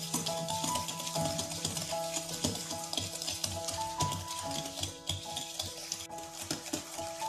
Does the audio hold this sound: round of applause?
no